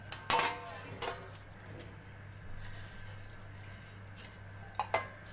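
A metal kadhai is set on the stove to heat, with sharp clinks and clanks of metal on the burner at the start and near the end. The scrapes are close and fairly faint, with quiet between them.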